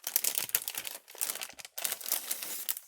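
Plastic packaging around a DIY journal kit of stamp-collecting pages crinkles and crackles as it is torn open, close and busy in bursts with short pauses, no voices.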